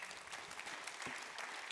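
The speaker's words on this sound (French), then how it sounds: "Merci beaucoup Pierre Vanceuf-Légat, on peut vous applaudir." A brief burst of steady clapping rises from the audience at the SERCE centenary event, moderately distant and without any talk.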